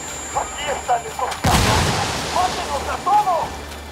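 A frag grenade goes off in the video game Ghost Recon Wildlands as a single loud, booming blast mid-clip, with voices talking before and after it.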